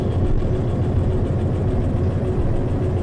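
A locomotive engine idles in the train simulator game Derail Valley, giving a steady, loud low rumble with constant vibration and no change in pace.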